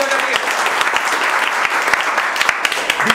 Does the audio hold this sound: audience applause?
yes